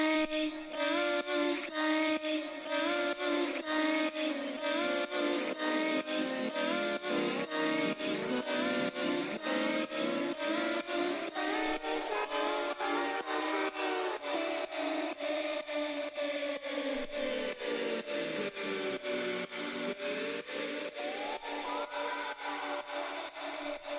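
Rising vocal build-up effect swept by an LFO and Endless Smile processing, a gritty, rhythmically pulsing texture that swells and bends in pitch over a steady loud stretch, alone without speech.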